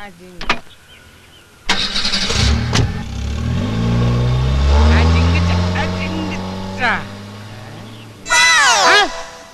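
A car engine cranks, catches and revs up as the vehicle pulls away in a comedy film scene, loud and close, with raised voices and a sharp chirping sound near the end.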